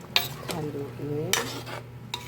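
A spoon scrapes in several distinct strokes through sautéed mung bean stew (ginisang munggo) seasoned with salt in a pan, with a soft sizzle underneath, close and clear with no talking.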